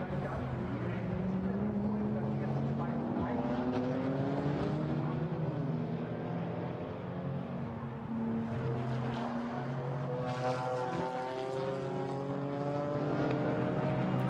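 A Toyota Supra GT4 race car brakes and dives into turn 1 at the Nürburgring during a GT4 European Series race, its engine note rising and falling in sustained loud harmonic sweeps, with other race cars audible around it.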